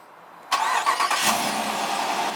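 A 2019 Dodge Durango R/T engine cranks by remote start and catches, then settles into a steady idle, heard close by with no talking.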